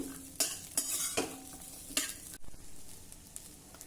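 Ingredients being stirred and roasted in a little oil in a pan until light golden brown, a steady close sizzle broken by several scraping stirs of a spoon against the pan.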